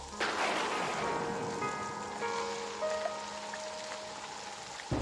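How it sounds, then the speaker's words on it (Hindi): Heavy rain pours steadily and close by as a broad, continuous wash with no break, while faint background tones drift through and no voices are heard. "बारिश बहुत ज़्यादा हो रही है, तुम भीग जाओगी"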